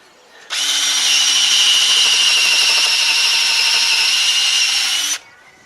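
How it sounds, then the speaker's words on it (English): An impact driver drives screws into decking boards in a garden landscaping job, one continuous loud whine of about four and a half seconds with a steady hammering rattle, close by and alone. "Countersink the holes first, and then we use an impact driver, and that screws them down securely"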